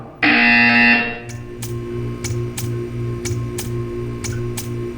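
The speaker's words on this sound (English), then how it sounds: "When you hear the buzzer, stare at the art." A loud, harsh electronic buzzer from the video game Portal 2 blares for about a second, followed by a series of evenly spaced faint ticks.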